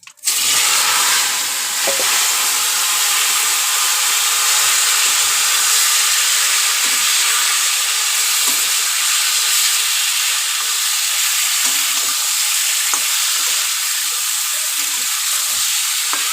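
Potatoes frying in hot oil in a kadai with radhuni tempering, a loud, dense, continuous sizzle that fills the whole stretch right after a sharp start, with no voices.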